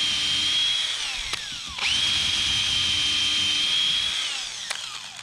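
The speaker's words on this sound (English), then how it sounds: "It should be really nice and easy to drill into." A cordless drill whines steadily at high pitch, briefly stopping and restarting partway through, then winding down at the end.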